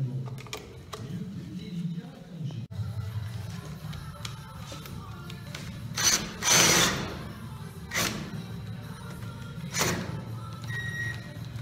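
A power drill bores a second hole into a wooden beam for recessing electrical fittings, giving a steady low motor hum throughout with a few sharper bursts of cutting noise midway and near the end.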